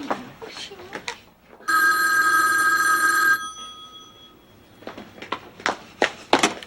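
An old-style telephone bell rings in one loud, continuous burst of a second or two, cutting through a sitcom scene with people talking and moving around it before and after.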